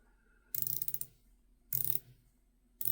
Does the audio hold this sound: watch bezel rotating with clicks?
yes